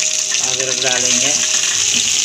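Ginger added to hot oil for samosa filling gives a loud, steady sizzle, with a short frying crackle partway through.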